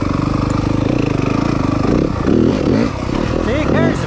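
A 2023 Yamaha 250FX dirt bike engine runs close by with a fast, pulsing drone and rises in pitch with several quick throttle blips. Someone talks over it.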